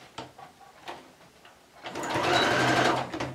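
A sewing machine stitches fabric for a Mother's Day border with drawn-thread work, opening with soft clicks and handling taps, then whirring into a steady, close run of rapid stitching for over a second.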